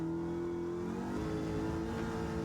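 Ford Mustang GTD race car engine in Gran Turismo 7 driving the Nordschleife, a steady loud mid-pitched drone that shifts pitch once as it changes gear, with no talking.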